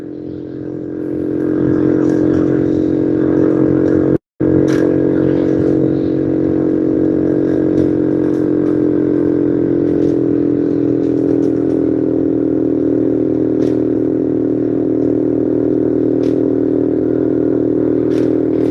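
A freshly repaired scooter is ridden on a cold night, and its engine drones loud and steady with a strong tonal hum. Light clattering and scraping run through it, and a brief dropout comes early on.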